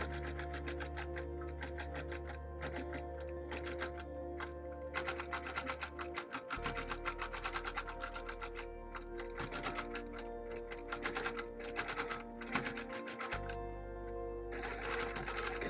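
Sewing machine stitching in the ditch on a bird panel quilt: steady rapid needle chatter with a low motor hum that pauses briefly twice, close and continuous.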